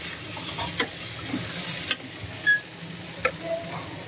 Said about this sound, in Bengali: এই যে আলু ভাজবো